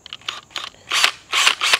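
A brush bit slides into and locks in a power driver's chuck, giving a quick series of close, sharp clicks and ratcheting snaps, the last two longer and louder, with no voices.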